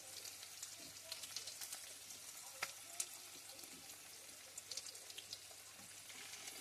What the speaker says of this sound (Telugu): కట్ చేసి పెట్టుకున్న ఆనియన్స్ అన్నీ కూడా పోపు వేగిన తర్వాత ఇలా వేసేసుకోవాలి